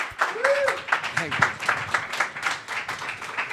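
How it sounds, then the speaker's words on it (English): An audience applauds after a live music performance: steady, dense clapping throughout, with someone speaking over it near the microphone. "Well-deserved applause."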